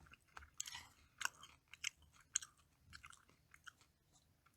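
Someone chews food during a meal, close and quiet: soft, moist mastication with a few crunchy bites in an uneven rhythm, and no talking.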